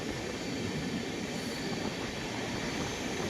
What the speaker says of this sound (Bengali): তার মধ্যে দিয়ে ট্রেন যাচ্ছে।